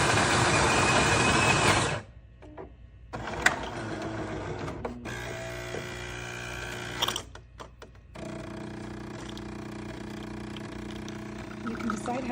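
A Jura E8 automatic espresso machine brews an espresso with loud mechanical whirring and grinding, stopping and starting in several segments, with a steady pump hum toward the end.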